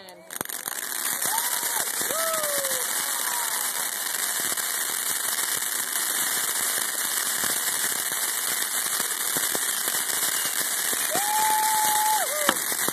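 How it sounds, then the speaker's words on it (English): Bottle rockets and fireworks on the Fourth of July, a constant crackling barrage with whistling rockets climbing and a few sharp pops, loud and close, with a crowd and scattered cheering under it. "Lighting off the bottle rockets right there."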